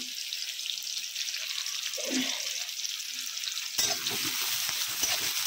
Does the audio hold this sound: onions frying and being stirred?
yes